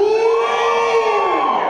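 Guests at a traditional Thai ordination ceremony let out a loud collective 'hiw' cheer, a single sustained rising-and-falling whoop from many voices at once.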